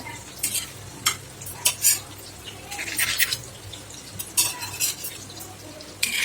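Onions sizzling in hot oil on an iron tawa, with a utensil stirring and scraping against the metal pan in irregular clinks. No one speaks.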